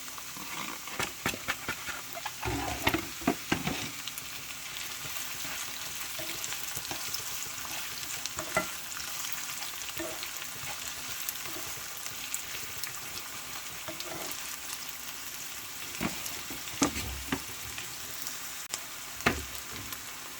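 Onions frying in a pan for Kapampangan pork asado give a steady, close sizzling hiss, broken now and then by brief clinks and scrapes of stirring, with no voices.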